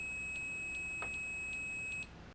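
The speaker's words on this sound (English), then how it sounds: "you'll hear an audible beep" A multimeter on its continuity setting gives a steady high-pitched electronic beep that holds for about two seconds and then cuts off, with faint clicks of the probes under it.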